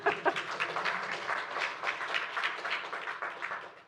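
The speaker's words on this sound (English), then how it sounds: "I almost feel like you deserve another round of applause for that." Audience applause at a lecture on archaeology, heritage and climate change: steady, fairly even clapping from a seated crowd, moderately distant and sustained for a few seconds.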